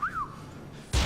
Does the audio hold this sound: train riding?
no